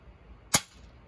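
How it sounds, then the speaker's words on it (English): One sharp, close BB gun shot, a quick crack with a short tail, set against faint background hiss and no talking. "The BB gun."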